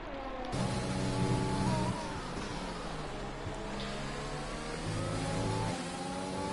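A race car engine in a racing video game at the Bahrain circuit revs hard and continuously, its pitch climbing and dropping through gear changes in a loud, steady whine with no talk.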